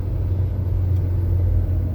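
Steady low interior rumble of a car on a winding mountain road, a constant close drone that fills the cabin without pause.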